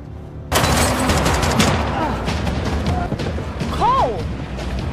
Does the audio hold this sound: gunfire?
yes